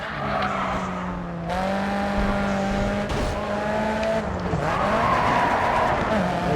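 A race car drifting sideways through bends in Grid 2, its engine whining loudly with shifting pitch while the tires squeal under it, and a voice speaks faintly alongside.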